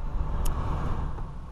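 A 2009 Ford Ka's ventilation fan blows at its highest setting, a loud, steady rush of air that fills the cabin with no speech over it.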